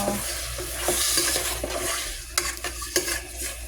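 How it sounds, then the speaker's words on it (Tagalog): Chicken pieces sautéing for tinola in a hot pan, a steady close sizzle with scraping stirs and light clinks of a utensil against the pan, sharper strokes near the end. "ilalagay na natin yung ating chicken para masasay natin siya"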